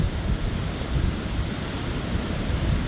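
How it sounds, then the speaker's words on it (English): Small waves of about two to three feet at Las Cuevas Beach, Trinidad, a continuous low surf wash mixed with wind rumble on the microphone, steady and moderately loud with no voices. "the waves are not high, they're not tall"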